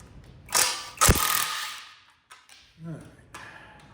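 A ratchet works on engine bolts, including the oil pump bolt, of a 1970 GMC C2500 engine, giving a few close clicking and scraping bursts followed by quieter mechanical handling noises.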